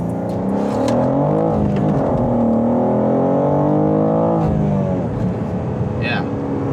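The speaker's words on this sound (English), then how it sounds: "So I'll do a few pulls here in first gear and see if we can warm up the tires" A BMW G87 M2 accelerating hard in first gear, its engine note climbing steadily and loudly through a long pull, easing briefly before rising again, with a voice talking over it.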